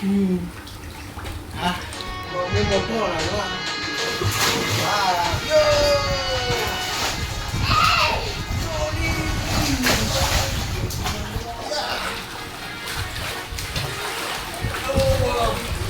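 Water sloshes and splashes in a baby's small home swimming pool freshly filled, with ongoing splashing throughout while adults and someone talk and squeal over it.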